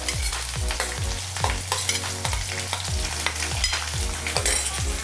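Finely chopped onion stirred into hot oil with ginger-garlic paste sizzles steadily in a pan for a Gujarati mung bean curry, with a regular rhythm of spoon scrapes cutting through the frying hiss, close and moderately loud.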